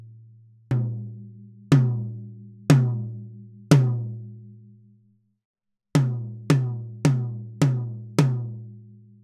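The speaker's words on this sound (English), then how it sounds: "this drum with a couple of lugs not particularly out of tune on the bottom head sounds like this" House kit drum with a couple of lugs slightly out of tune on the resonant bottom head. It is struck four times slowly, then five times more quickly, each hit booming with a long low decay, close and alone.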